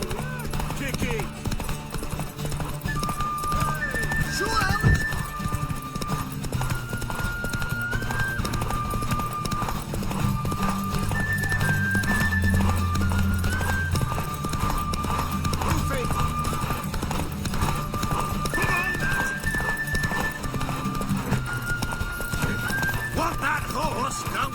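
A horse in The Witcher 3 clip-clops at a run and whinnies repeatedly, under music and game voices talking throughout.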